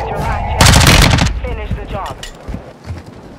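A loud burst of gunfire, about 0.7 seconds of rapid shots, erupts in a Resurgence match on Ashika Island, followed by quieter game noise while players talk excitedly over it.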